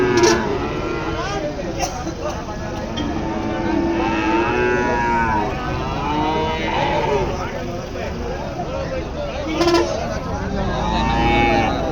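Cattle and calves low and moo repeatedly at the busy Karungalpalayam livestock market in Erode, with crowd chatter and voices running throughout.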